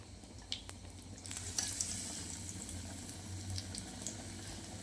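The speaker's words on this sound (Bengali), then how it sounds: "এখন মা বেগুনি ভাজছে।" Battered eggplant fritters (beguni) fry in a pan of hot oil at home, giving a steady close sizzle with occasional crackles and stirring clinks.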